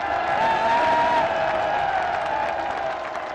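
Crowd applause at a PTI political rally in Gujranwala, a steady dense wash of clapping and crowd noise held throughout at even loudness, fading slightly toward the end.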